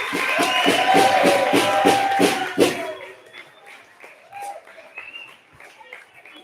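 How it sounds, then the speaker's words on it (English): A variety show audience claps loudly in dense applause for about three seconds, then it fades into scattered claps and quiet room noise. "Let's give a big round of applause for Marty Coda up at the sound booth."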